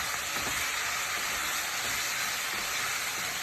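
Chicken stir-frying in a wok over a high-heat wok burner gives a loud, continuous dense sizzle close up, with faint scraping and stirring underneath and no talk.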